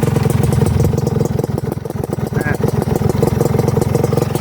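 Kawasaki Ninja two-stroke motorcycle engine with an OB block, being blipped on the throttle and running on racing two-stroke oil, a close, loud, rapid pulsing buzz with rev rises, while someone talks over it.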